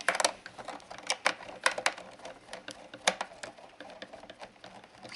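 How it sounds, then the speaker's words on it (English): Four small screws are tightened on a DJI Phantom drone while a range extender kit is fitted, giving close, faint ticking clicks and scrapes in irregular bursts, with no talking. "We'll tighten them up."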